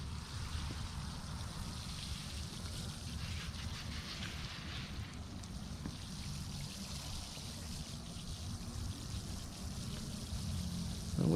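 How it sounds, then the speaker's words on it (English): Water from a hose sprayed over a paver walkway set with polymeric sand, a faint steady hiss and trickle that carries on evenly throughout. "You really don't want to be bashful with the water at this point, guys."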